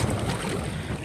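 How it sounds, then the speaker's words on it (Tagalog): Strong wind blowing across a small paddled boat on shallow open sea under cloudy skies, a loud rough rumble of wind buffeting the microphone with faint water wash beneath. "Ay, medyo malakas-lakas yung hangin mga sagwan."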